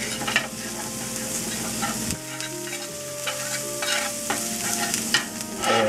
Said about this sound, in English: I'm going to add a half a teaspoon of ground up cumin in here and stir that around